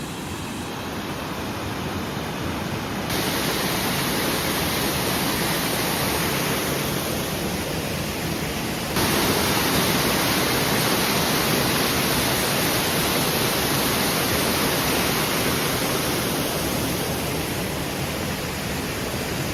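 A large waterfall at night roars as a steady, dense rush of water, close and loud, continuous throughout with no voices.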